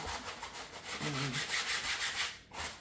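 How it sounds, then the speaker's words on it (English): A small scrub brush rubs briskly over a dirty purse in steady back-and-forth strokes, close and loud, with no talking. "I have a little scrub brush that I'm going to get. I'm just going to scrub it down."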